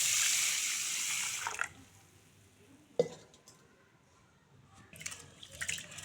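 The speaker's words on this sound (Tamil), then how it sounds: "கிழங்கு அலம்பி எடுத்து வச்சுக்கணும்." Tapioca roots are washed under running water in a kitchen, with a loud tap stream at the start that cuts off, then faint splashes and handling knocks and a short burst of rinsing near the end.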